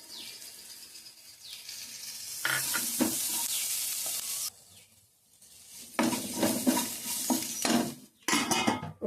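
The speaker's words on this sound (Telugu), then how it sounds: "ఉల్లిపాయ అది వేగిపోయింది కదా, ఈసారి ఉప్పు, పసుపు, కారం అన్నీ వేసేసుకుందాం." Sautéed onions with salt, turmeric and chili powder added get stirred in a pan for a Telugu home dish, with loud sizzling and the clatter of a utensil scraping the pan in uneven bursts, close by and without talk.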